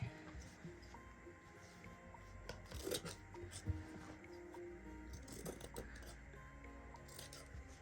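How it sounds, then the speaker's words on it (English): Scissors cut through stiff embroidered curtain fabric while a padded pelmet is being made, giving soft rasping, rubbing snips that rise in short bursts, close and quiet throughout. "The trouble with embroidered fabrics, they're quite hard to cut."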